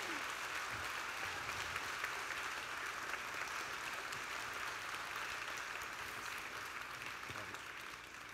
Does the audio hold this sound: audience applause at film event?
yes